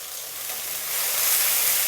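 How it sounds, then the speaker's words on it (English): Red onion and dried chilli frying in a pan, a broad hissing sizzle that grows louder midway and holds steady, close and uninterrupted by voices. "Fry this for a minute or two. We just want the onions to soften a bit."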